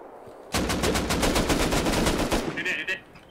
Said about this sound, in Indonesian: Aku kena tembak daripada bawah.